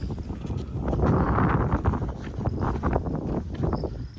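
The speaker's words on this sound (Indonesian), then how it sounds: "Anginnya kenceng banget." Strong gusts buffet the microphone high on Mount Sumbing in Indonesia, a rough broadband roar that swells loudest in the middle and then stays gusty.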